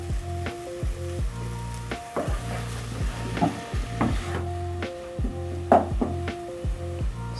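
A pot of beef stew cooks with coriander leaves just added, making a low sizzle with repeated rhythmic scraping or stirring strokes, close and without talk.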